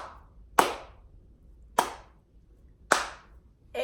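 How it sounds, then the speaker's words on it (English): Three sharp, loud group claps from a classroom audience, spaced unevenly in a syncopated rhythm with silence between each burst, clapping along in a music lesson on dots, ties and syncopation. "Now it's you guys' turn to clap this syncopated rhythm."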